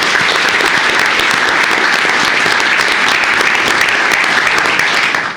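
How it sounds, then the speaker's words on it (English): Loud, dense applause at a county commissioners court meeting honoring an employee's 30 years of service, a steady roar of many hands clapping that holds evenly and stops abruptly. "Let's give a big round of applause to Carmen Garza for 30 years"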